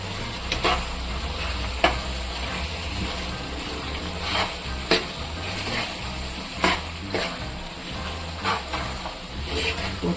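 Ingredients being stirred into a simmering tamarind brinjal gravy in a pan, soft scraping and sizzling with several sharp spoon clinks against the pot, close and steady.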